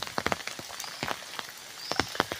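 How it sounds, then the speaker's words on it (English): Rain falls steadily, with scattered sharp drops tapping nearby surfaces in an irregular patter over a soft background wash. "don't know how many days going to rain"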